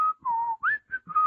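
A person whistles a short, casual tune of a few sliding notes, close and clear with brief gaps between phrases, no talking.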